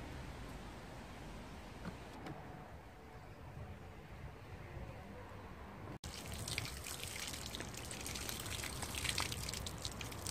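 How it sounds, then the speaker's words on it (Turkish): Okra being washed under a running kitchen tap, a steady hiss of flowing water that turns louder and splashier midway as the pods are rinsed, close and continuous with no talk. "Güzelce yıkıyorum."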